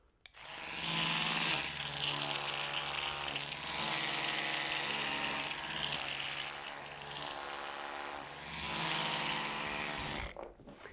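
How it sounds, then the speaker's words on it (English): An electric toothbrush held against the face for reflex stimulation buzzes steadily and loudly for about ten seconds, with a rough, grinding hum that wavers slightly as it is moved. "Can turn the electric toothbrush on to get the stronger stimulation as well."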